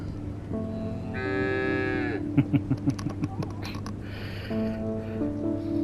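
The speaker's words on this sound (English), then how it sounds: "Moo." In the farm video game Where the Heart Leads, a cow lets out a long, drawn-out moo, then a short series of thumping knocks, then a second lower moo, all set against a steady ambient hum.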